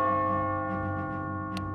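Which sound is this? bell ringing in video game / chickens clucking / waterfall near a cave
bell ringing in video game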